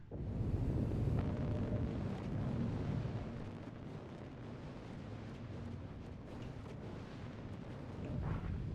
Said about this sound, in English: That's a torpedo from the Retaliator hitting a Starfarer